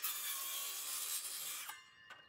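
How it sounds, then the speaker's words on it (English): A circular saw slices notches into wood stringers for a shed ramp, a loud, steady high rasping whine for most of the stretch, then cutting out, with one brief burst of blade noise near the end. "I take my circular saw and slice in between those marks with multiple passes."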